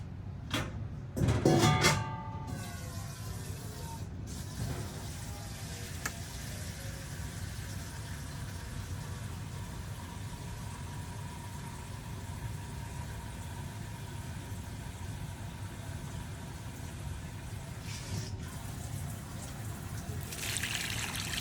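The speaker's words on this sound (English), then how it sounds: "now we're just going to fill it up with water." Water runs steadily into a pot for a long stretch, a continuous trickling rush, with a few brief clanks near the start.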